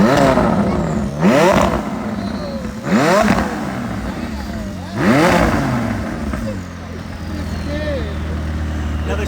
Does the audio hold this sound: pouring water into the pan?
no